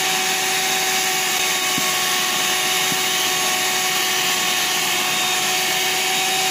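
Electric hand mixer whirring steadily as it beats yellow sweet potato batter, a constant high-pitched motor whine with a couple of faint clicks, continuous and close.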